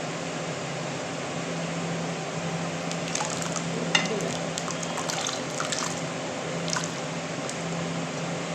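Garlic dropped into hot oil while making mango pickle, giving a steady close sizzle with scattered crackles and pops over a constant low hum and no voices.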